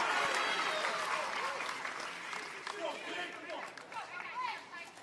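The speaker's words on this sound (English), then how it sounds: "That'll get the crowd going here in St. Louis." Crowd at a pickleball match in St. Louis applauding and cheering loudly at first, then thinning into scattered claps and chatter while a commentator talks over it.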